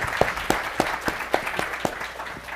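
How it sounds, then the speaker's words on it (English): Sparse applause from a small conference audience greeting council members at a SWAN 2022 gathering, with individual claps spaced out in a slow, thin rhythm rather than a full ovation. "can we get you to stand up for also a round of applause?"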